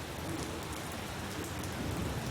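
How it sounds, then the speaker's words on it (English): Steady rain pouring at a remote advanced landing ground where a twin-engine Mi-17 helicopter stands by, a dense, even hiss of drops hitting surfaces that fills the whole clip with no voices. "It's been raining for days"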